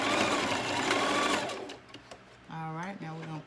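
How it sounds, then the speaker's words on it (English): A sewing machine stitches down the side of a piece of fabric, a loud, rapid whirring run that stops after about a second and a half, followed by a person talking. "I'm going to sew down the side of it"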